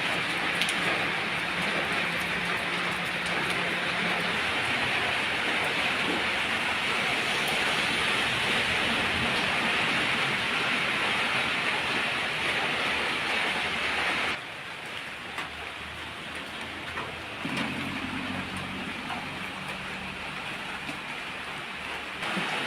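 Rain falls hard and steady around a house, a thick unbroken wash of drops on nearby surfaces that dips slightly in level partway through, with no talking.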